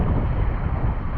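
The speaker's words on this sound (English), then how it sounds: "the wind is stronger" Strong wind blows at sea aboard a boat at a kitesurfing spot, heard as a steady, loud rushing roar buffeting the microphone with no pauses.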